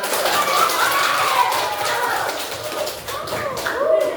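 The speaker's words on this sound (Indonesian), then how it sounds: "Tepuk tangan untuk" Schoolchildren clap together in a classroom, a quick burst of scattered hand claps that carries on steadily under children's voices before thinning out.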